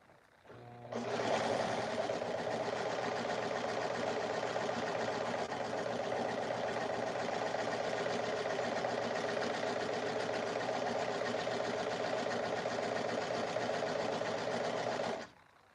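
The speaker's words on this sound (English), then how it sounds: "I'm being careful with my serger, going kind of slow because glitter can be kind of plasticky and it can mess up your machine" A serger stitches glittery prom dress fabric at a slow, steady pace, its fast mechanical whirring running continuously for about fifteen seconds, close and alone.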